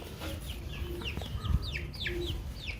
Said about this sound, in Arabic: والفراخ تحب قشر البيض وتأكلها